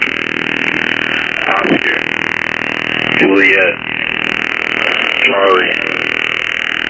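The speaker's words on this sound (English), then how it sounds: "what you're hearing here is that fuzz noise is the radar" Over-the-horizon radar fuzz on a shortwave radio recording: a steady, coarse buzzing hiss fills the whole stretch while a voice reads out letters over it, briefly dipping near the middle.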